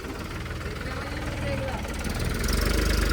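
An old 2000-model tractor engine idles close by with a steady, low, rhythmic chugging that grows slightly louder and heavier toward the end.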